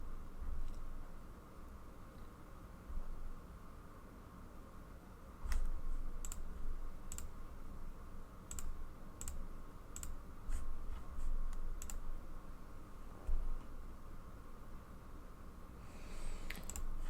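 Keys clatter on a computer keyboard during a Old School RuneScape stream, bursts of quick close clicks with pauses between runs over a low steady hum.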